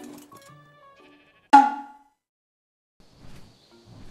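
A sheep being sheared in the video game ARK Survival Evolved gives a single short bleat, set among quiet tonal game sounds and soft rustling.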